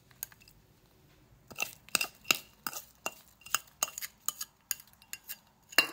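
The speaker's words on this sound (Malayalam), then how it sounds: "നന്നായിട്ട് മിക്സ് ചെയ്യുക." Unniyappam batter mixed with roasted coconut bits and ghee: a spoon clinks and taps against the bowl in a rapid, irregular run of sharp knocks over faint background, with no talking.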